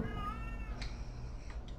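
A cat meows once in the horror game Erie, a close, drawn-out wavering cry in the first second, followed by a few faint clicks.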